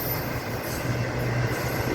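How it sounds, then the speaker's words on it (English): A long CSX freight train with connected spine cars rolls past a crossing in Folkston, Georgia, making a steady, loud, unbroken rumble with a faint wheel squeal riding on top. "This is a long train."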